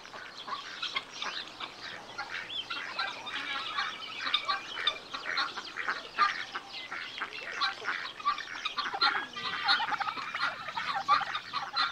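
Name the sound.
two male turkeys gobbling in rivalry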